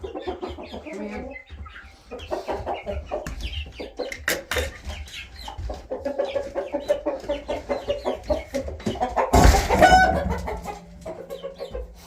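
Chickens cluck and squawk steadily inside a backyard coop, a busy overlapping chorus of hens close by with a few louder calls near the end.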